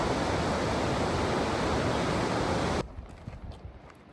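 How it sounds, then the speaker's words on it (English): Havasu Falls pours down in a loud, steady, broadband roar of crashing water that fills most of the stretch, then cuts off abruptly to a much quieter outdoor background near the end. "You can hear the sound of water crashing down"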